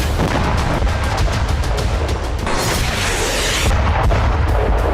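Explosive charges demolishing a Hezbollah tunnel network in southern Lebanon, heard as dense, continuous rumbling booms and crackling blasts, loud and close throughout with no pauses.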